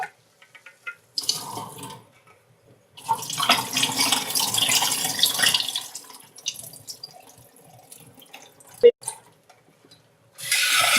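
Basmati rice rinsed under running tap water, with bursts of splashing and pouring at close range, quiet pauses between them, and a single sharp clink near the end.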